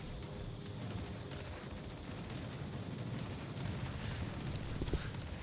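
Anti-aircraft fire crackles nonstop in World of Warships as skip bombers are shot down, a dense rattling stream of rapid gunfire bursts with no pauses for the full stretch, steady and fairly loud.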